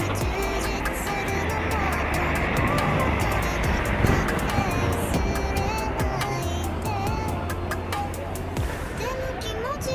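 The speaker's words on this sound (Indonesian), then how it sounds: "Prima Jasa tujuan Bandung Kalideres ya, baru tiba mau masuk di parkiran di belakang ya teman-teman." A Prima Jasa intercity bus on the Bandung–Kalideres route rolls into Kalideres Terminal and pulls toward the rear parking area, its engine a steady low rumble over continuous busy traffic noise.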